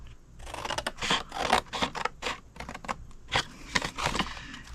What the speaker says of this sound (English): Go to the next 2 score lines and cut them both to the second score line.